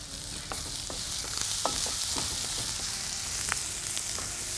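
Onions sautéing in oil over medium heat with a little salt, giving a steady close sizzle broken by scattered sharp clicks and scrapes of stirring, with no voices.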